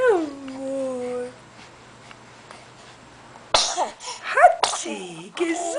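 A short whimpering, dog-like vocal tone comes first, then a pause, and then a loud, abrupt sneeze-like burst followed by throat noises and a brief second burst, all close and up front.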